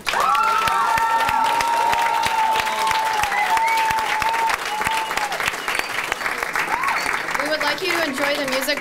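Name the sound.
audience applause and cheering for poets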